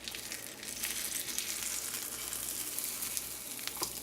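Eggplant slices fry in a pan over medium heat, giving a steady, close crackling sizzle that holds level throughout with a few sharper pops near the end.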